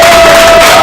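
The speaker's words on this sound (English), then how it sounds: "how about we give a round of applause" An audience claps and cheers in a brief, loud, dense burst of sound.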